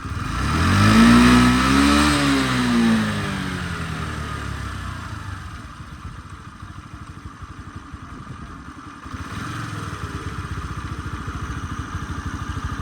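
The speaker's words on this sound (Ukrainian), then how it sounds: "Все чудово, все м'якенько працює двигун." A small Honda Dio AF-62 carbureted scooter engine revs briefly, then settles into a steady, even putter at idle, close by and continuous.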